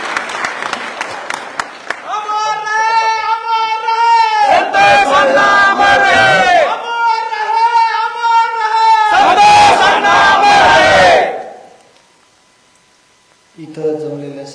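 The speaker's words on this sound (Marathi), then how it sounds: "सर्वांनी यांचा त्यांच्यासाठी जोरदार टाळ्या वाजवा." A large crowd at a Maratha reservation protest rally in Mumbai claps and cheers loudly, with rhythmic chanted slogans rising in two strong waves before the noise drops to near silence and a single voice begins.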